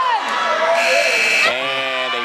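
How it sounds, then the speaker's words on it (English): At a college women's basketball game, a shot clock buzzer blares for about a second amid a loud, cheering crowd, with a voice shouting over the noise. "And a buzzer beater on the shot clock for Carciopolo"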